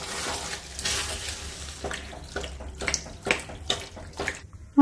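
Vegetable cooking water is poured into a pan of pasta, a close splashing gush followed by a series of short bursts and bubbling sizzles.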